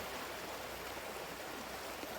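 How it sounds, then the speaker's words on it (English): A river flows steadily past grazing land, its continuous rushing wash close and unbroken, with no voices over it. "this is our river down here."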